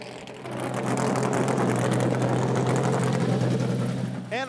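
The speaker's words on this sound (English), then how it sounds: "Past Jeff Gordon's loud car here." Jeff Gordon's loud NASCAR race car at Kansas Speedway, a heavy engine droning steadily close by at strong volume for several seconds, with a brief rising tone near the end.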